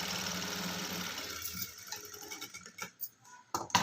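A sewing machine stitching saree fabric being turned into a long frock, steady mechanical whir for the first half and a half second, then stopping into scattered light clicks and handling taps.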